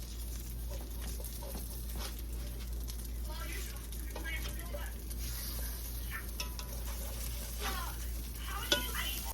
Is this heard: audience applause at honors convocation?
no